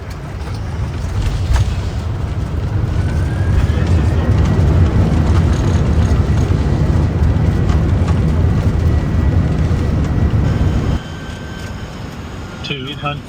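Boeing 747 cockpit during a landing at Paris Charles de Gaulle on a windy day: a loud, steady roar of wind and engine noise fills the flight deck, with faint radio voices, then drops noticeably near the end.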